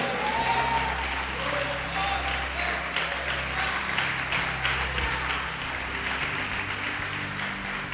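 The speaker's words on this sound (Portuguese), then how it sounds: "Pode aplaudir e glorificar o Senhor." A church congregation applauds in worship, with continuous clapping from many hands. Sustained low instrumental tones and scattered voices sit underneath, and the sound stays full and steady throughout.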